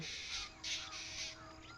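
Several harsh crow caws ring out in quick succession over steady outdoor ambience in a Bengal village in the morning, loud and fairly close, among many other birds.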